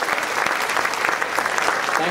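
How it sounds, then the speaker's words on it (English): An audience applauding after a ballet program, dense continuous clapping with distinct close hand claps throughout, alone without talk. "Another round of applause, please."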